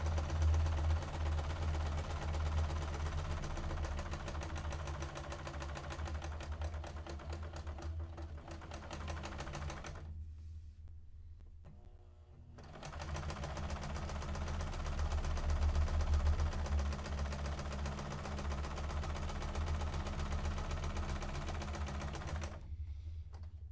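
A sewing machine runs steadily, stitching through built-up layers of a fabric face mask, a continuous mechanical hum with rapid needle clatter that stops briefly midway before resuming at the same pace.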